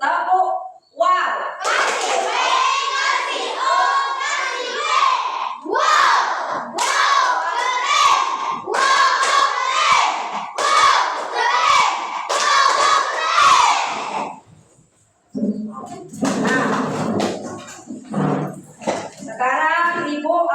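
A classroom of children performs the tepuk wow clapping chant, shouting rhythmic lines in unison with bursts of hand claps, loud and close, followed by a pause and more ragged chanting.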